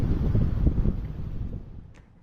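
Strong wind over the stormy waters off Buru Island buffets the microphone in loud, gusty rumbles that ease off toward the end.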